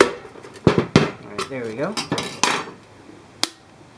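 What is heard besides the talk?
hammer tapping a punch into a can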